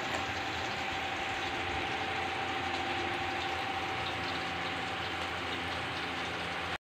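Hilsa fish pieces fry in hot oil in a pan, giving a continuous steady sizzle and bubbling throughout, close and even, with no talk.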